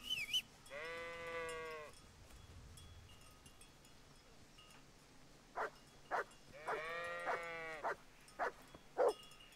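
Sheep in the Kingdom Come Deliverance video game give two long, loud, harmonic bleats, one near the start and one in the middle, with sharp thuds or hoof knocks scattered after the second cry.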